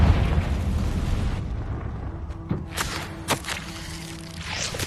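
A loud Confringo blasting spell explodes in Hogwarts Legacy with a dense, rumbling burst that fades, followed by several sharper pops and cracks. No voices are heard.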